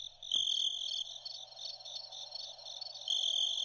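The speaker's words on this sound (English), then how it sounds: "There's crickets." Crickets chirp in a steady high trill that pulses in short bursts, faint and distant in a quiet night setting, and no voices are heard.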